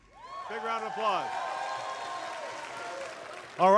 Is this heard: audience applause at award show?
yes